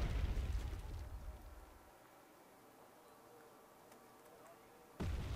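Artillery shells land in the video game Wargame: Red Dragon: a loud, rumbling blast fades away over about two seconds, leaving a quiet hiss before another abrupt burst hits near the end.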